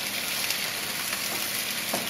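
A side dish sizzles steadily in a pan while salt and pepper are stirred in, a continuous close frying hiss with faint scraping.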